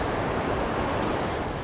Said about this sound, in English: Helmcken Falls has got the tallest free fall of water here in the park.